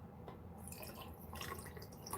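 Water pours into a container in a soft, continuous trickling splash with small dripping accents, faint and close against low background noise.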